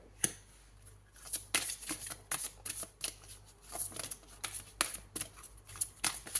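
Tarot cards shuffled by hand during a reading, a string of crisp papery riffles and flicks in quick irregular bursts, close and fairly quiet.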